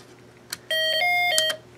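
A Snap Circuits alarm circuit plays a music-IC tune through its small speaker: a short run of bright, electronic tones at close range, with a few clicks before and after.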